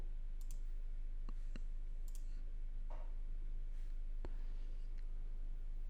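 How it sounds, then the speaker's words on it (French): Mouse clicks on a computer while downloading a video, a few sharp isolated clicks spread across a quiet background hum, close and fairly faint. "Donc je clique ici pour télécharger la vidéo"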